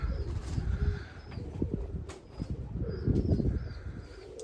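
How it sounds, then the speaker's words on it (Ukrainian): Pigeons coo softly and repeatedly nearby while wings flutter and flap now and then, with low outdoor background noise. "Трошки випустили голубів, трошечки щоб політали."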